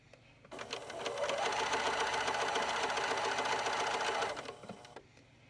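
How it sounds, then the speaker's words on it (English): A sewing machine runs a zigzag stitch along a seam with a 1/4 inch allowance, a steady fast whirring rattle close up that starts abruptly, holds for about four seconds, then stops. "I'm doing a zigzag. I'm going to sew a few stitches and then I will backstitch."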